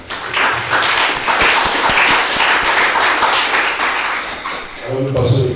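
Conference audience breaks into applause, a loud, thick wash of many people clapping that runs steadily, then a voice begins speaking over the tail end as the clapping fades.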